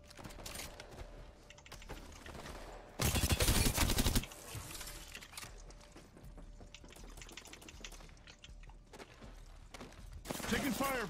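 Rapid bursts of video game gunfire, with a loud sustained volley in the middle and scattered shots around it, mixed with keyboard clatter and brief voices.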